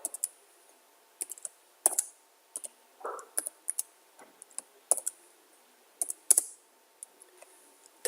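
Quiet, close typing on a computer keyboard: irregular clusters of light key clicks with short pauses between them, in an otherwise silent room.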